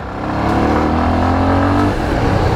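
A 2019 Bajaj Avenger 160 Street ABS motorcycle pulls hard in first gear, its loud engine note rising steadily in pitch before easing off near the end.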